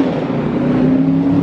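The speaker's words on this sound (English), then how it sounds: "driving the Charger RT" Steady, close engine hum of a 2021 Dodge Charger R/T sedan driving, a continuous low drone heard from inside the car without any voices.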